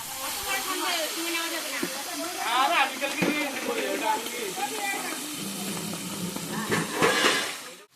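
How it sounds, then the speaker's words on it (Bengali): Fish heads sizzle and hiss as they fry in a pan for dal, a steady broad hiss that continues throughout under a nearby voice talking. "ডালের জন্য মাছের মাথাগুলো ভেজে রাখছি।"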